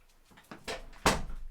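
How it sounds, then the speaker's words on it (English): A chihuahua knocks at a bedroom door indoors, two or three dull thumps rising in strength, the last one loudest and sharp, with no talking over them. "I have a chihuahua knocking on my door"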